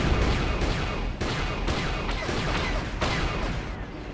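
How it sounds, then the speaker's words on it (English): Explosions and rapid gunfire in the Star Wars: KotOR video game, a dense loud barrage of repeated blasts and bursts with no clear speech. "There's a lot of explosions and stuff."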